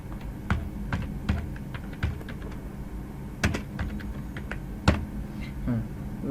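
Someone types a name on a computer keyboard while working in design software, producing close, irregular key clicks in short bursts separated by brief pauses.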